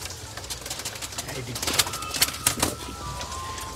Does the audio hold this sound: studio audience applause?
no